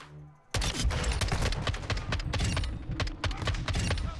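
A semi-automatic marksman rifle fires in a video game after a brief quiet start, loud close shots coming rapidly one after another with echoing tails that fill the rest.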